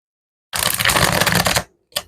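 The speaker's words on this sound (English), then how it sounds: "Let's shuffle up and get another spread here" Tarot cards being shuffled give a close, dense riffling burst lasting about a second, followed by a short pause and a quick final flick, with no talking.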